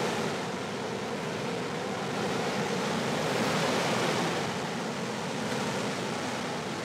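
High Falls waterfall near Guntersville, Alabama, rushes with a steady broadband roar that stays even and continuous, heard from a short distance away with no voices.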